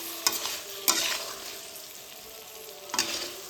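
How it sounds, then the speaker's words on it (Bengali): Raw green mango pickle being stirred with sugar and ground spices, a few sharp scraping knocks of a spoon against the pot over a quiet, faint sizzling background, no talk. "চিনিটা ভালোভাবে মিশিয়ে গুঁড়ো করা মশলাটা অল্প অল্প দেবো আর মেশাতে থাকবো।"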